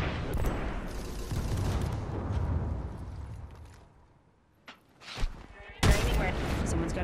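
Gunfire in the Apex Legends battle-royale game, dense bursts of shots rolling through the first few seconds, then fading before several sharp, loud cracks near the end, with a voice speaking over the fight.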